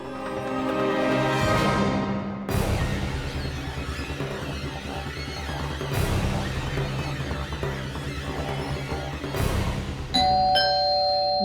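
An electronic doorbell chimes repeatedly, several bright ding-dong tones ringing out over a steady background of music or ambient noise.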